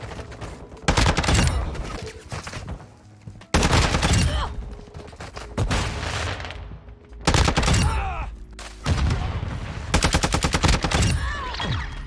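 Video game gunfire from a TAC 56 rifle: loud, rapid bursts of shots in four separate volleys with brief gaps between, sharp and close, with faint voices underneath.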